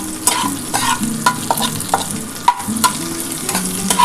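Neem leaves fry in ghee with bay leaf and dried red chillies, a loud close sizzle punctuated by frequent stirring clicks and scrapes against the pan.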